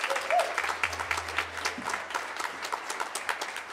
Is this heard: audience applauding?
yes